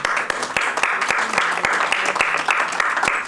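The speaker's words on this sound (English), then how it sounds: "Give him a big round of applause." A large audience applauds a speaker at an event on educational pathways to women's empowerment, with steady, dense clapping and sharp individual claps standing out, close and loud throughout, with no talk over it.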